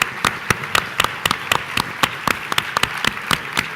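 Audience at a tourism conference on digital topics gives a short round of applause, with distinct, fairly sparse claps ringing out in an uneven rhythm throughout.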